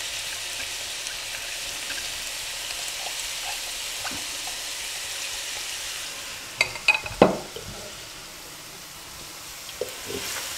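Chopped onion frying in a few spoonfuls of oil in a pan gives a steady, even sizzle, broken near the end by a short cluster of utensil clinks and scrapes before the hiss settles lower.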